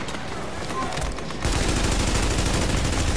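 Sustained automatic gunfire in The Division video game, a lighter spattering of shots that turns into a loud, steady rattle partway through.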